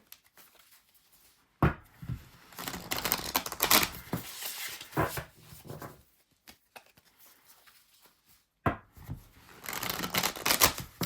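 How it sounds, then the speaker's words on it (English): Tarot cards being shuffled in several bursts of quick riffling and patter, close by, separated by short pauses. "Alright, so I'm gonna shuffle here."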